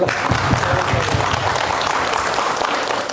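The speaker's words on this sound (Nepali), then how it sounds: "अनुमति दिनेहरूले ताली बजाइदिनुहोस्" Wedding guests break into a burst of loud, dense clapping that stays steady for a few seconds, filling the room with the sound of a crowd applauding together.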